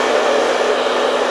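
A hair dryer blows heat on natural curly hair with a steady, loud, close whooshing roar that continues without a break, with no talking.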